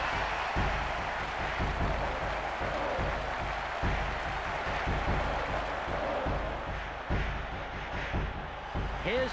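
A video-game football crowd roars steadily after a goal in a Germany versus Scotland match, a broad continuous wash of cheering with dull rhythmic thumps running underneath.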